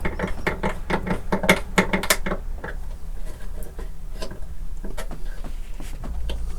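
A screwdriver turns pickup screws on a 1970s Crestwood 2064 electric guitar, giving a close, quick run of ratcheting clicks and small scraping ticks that thin out into sparse taps.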